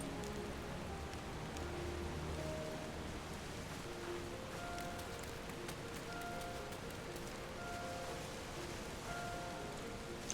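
Rain falls steadily in Final Fantasy XIV as a soft, even hiss, fairly faint, while light game music tones play underneath and a small click sounds at the end.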